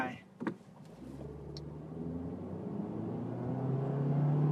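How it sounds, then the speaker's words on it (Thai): A Honda City, 2017 model, pulls away from a standstill on a test track, heard from inside as a low engine note that swells steadily louder and higher, after a brief thump and a short voice at the start. "เดี๋ยวลองดูอัตราเร่งนิดนึง"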